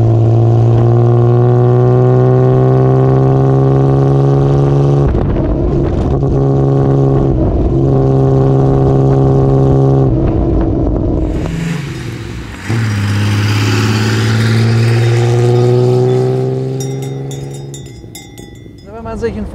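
A 1935 Frazer Nash BMW 315 Sport engine pulls hard uphill, a loud, deep, steady drone that climbs in pitch through the gears, with brief shift dips, then settles into a rougher rumble near the end.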